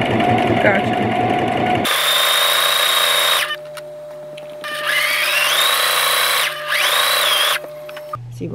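A sewing machine stitches fabric in a beginner's sewing session, its motor whirring in several sustained runs that stop and restart, while people talk nearby.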